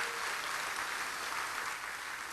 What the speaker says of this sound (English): if we can give Sue a round of applause